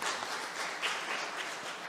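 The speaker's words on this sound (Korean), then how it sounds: "박수 한번 보내주십시오." A seated audience applauding at an academic conference session in Jeju, a brief burst of dense, even clapping from many hands, moderately loud, with no talk.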